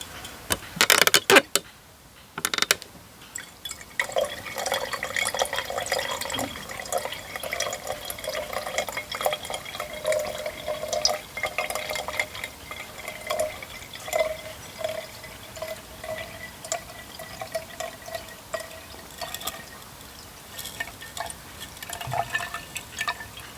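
Liquid poured slowly off settled gold recovered from processed phone parts, a steady trickling, dripping flow heard close and alone, with a few sharper clatters at the start.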